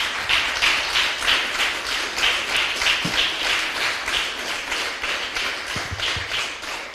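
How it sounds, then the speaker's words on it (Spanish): A church congregation claps in a steady rhythmic beat, the regular claps repeating evenly and close by for the whole stretch with no talk over them. "Denle un fuerte aplauso una vez más al Señor."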